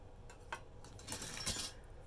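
A metal ladle is handled, giving a few faint, quick clinks and taps over about two seconds in a quiet room.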